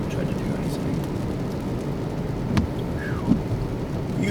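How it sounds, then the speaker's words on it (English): Thunder rolls and rain falls during a thunderstorm met while storm chasing, a low continuous rumble with a couple of sharper cracks, heard alone without talk. "Beautiful storm."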